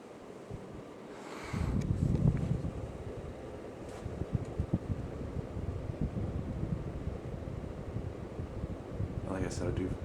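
A 1990s Hunter Pavilion 52-inch ceiling fan runs with a continuous airy whoosh and low rumble, with brief faint voice sounds over it.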